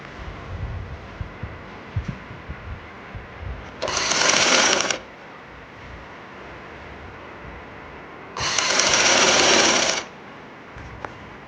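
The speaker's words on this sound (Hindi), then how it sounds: "अब मैं इसको सीलूंगी यहाँ से मैं मिलाकर, इसको इससे मिला दूँगी।" A sewing machine stitches boy shorts made from trouser legs in two steady, fairly loud runs of about one and a half seconds each, separated by a quiet pause with light handling noise.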